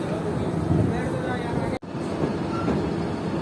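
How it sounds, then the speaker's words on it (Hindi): A passenger train pulling out of Bahawalpur railway station, a steady rumbling rail noise heard from inside with a brief dropout partway, a voice faintly talking under it. "तो तकरीबन 5 मिनट रुकने के बाद ट्रेन निकल रही है भावलपुर रेलवे स्टेशन से।"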